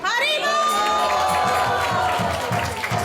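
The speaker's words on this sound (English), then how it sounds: "So let's give her a big round of applause." An audience at a Panihati Chida Dahi temple festival breaks into clapping and high, excited cheers, with loud voices whooping over the applause in a short, lively burst.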